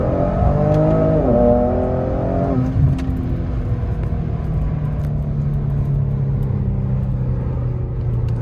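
A Genesis G70 3.3 twin turbo Sport accelerates, engine note climbing through gears with a shift dip early on, then a steady droning rumble, loud and close with no talk.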